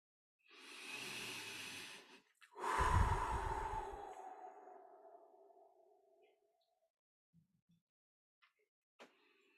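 A long, slow breath during a guided meditation session: a soft airy inhale followed by a fuller, deeper exhale that trails off gently, close and quiet, then near silence with a few faint clicks.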